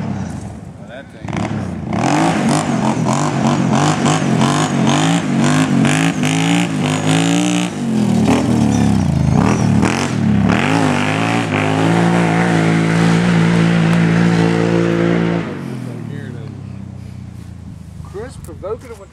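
A motorcycle engine with a deep, dark tone revs hard for about fifteen seconds, loud and near, rising and falling through gear-like sweeps before dropping to an idle, with voices talking over it at times.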